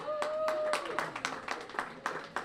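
Scattered claps from an audience at a Lions Club celebration marking the merger of the Larchmont and Mamaroneck clubs, loose and uneven, rising and thinning across a couple of seconds in a room.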